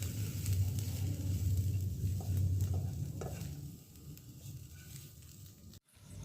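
Cabbage and mixed vegetables frying in a pan, a close sizzling hiss with stirring scrapes that eases off toward the end before a brief cut.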